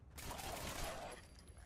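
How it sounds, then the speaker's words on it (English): Burst of gunfire in Fallout 4 aimed at a rotting feral ghoul, a rapid run of shots that fades out after about a second against a faint background. "if I shoot his leg off, yeah, then I can just walk over and blast him with bullets"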